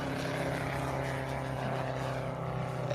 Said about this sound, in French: il y a le fameux son, ce bon vieux rototo d'un moteur en étoile, oui, un 5 cylindres en étoile